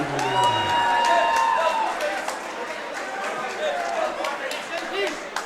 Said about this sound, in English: please, a big round of applause for Ryan Bradley